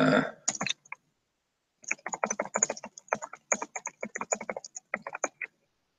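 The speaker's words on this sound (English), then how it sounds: "you click on it and you can start just typing away" Rapid clicking of a computer keyboard as someone types a README file in a GitHub repository: steady bursts of close, crisp keystrokes after a brief pause, with no talking.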